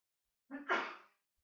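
A single short sneeze rises out of silence in an audience at a teaching session on healing disturbing emotions, brief and fairly faint, with quiet before and after.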